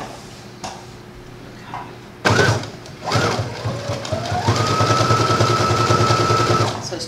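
A sewing machine stitches along the edge of a dress, starting after some clicks and handling noises and then building into a steady, rising whir that runs continuously for several seconds, close and clear.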